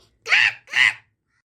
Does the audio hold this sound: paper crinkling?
no